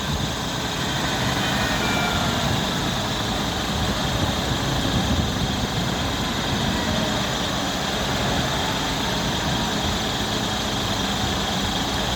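Tractor engines idle and rumble at a roadside fuel protest in Mallow, County Cork, with teenagers at the wheel, a loud, continuous, close diesel drone with no talk over it.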